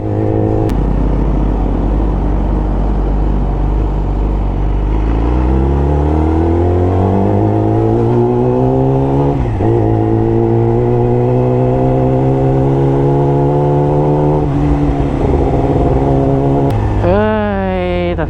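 A motorcycle at a stunt-riding event revs hard and close, its engine note climbing in long sweeping rises, then dropping and climbing again, loud and sustained throughout.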